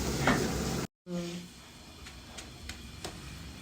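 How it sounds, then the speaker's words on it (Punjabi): Chillies frying in hot oil for a tadka, a steady broad sizzle with short stirring scrapes, loud and close, briefly cut off by a silent gap before the sizzle resumes more softly. "ਲੋ ਜੀ ਆਪਣੀ ਇਹ ਮਿਰਚਾਂ ਤਾਂ ਵਧੀਆ ਵਧੀਆ ਗਈਆਂ ਤੜਕ"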